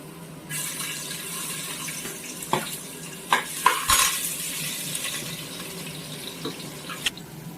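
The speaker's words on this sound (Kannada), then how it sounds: "ಸ್ವಲ್ಪ ಆಯಿಲ್ ಹಾಕ್ಕೊಂಡು ಇವಾಗ ನೀಟಾಗಿ ಚಿಕ್ಕದಾಗಿ ಕಟ್ ಮಾಡಿರೋ ಅಂಥ ಆನಿಯನ್ ಸೇರಿಸ್ಕೊಳ್ಳೋಣ" Finely chopped onions dropped into a little oil in a pan and stirred, a low sizzle beneath several clanks and scrapes of a spoon against the pan, close by, with no talk.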